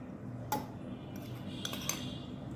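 A spoon adds powdered white chocolate to a strawberry candy milkshake, making a few light metallic clinks and scrapes over a steady low background hum.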